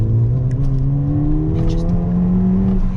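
A Ford Fiesta ST pulls hard in second gear, the engine note climbing steadily and loudly as it accelerates, with a brief voice speaking over it at the start.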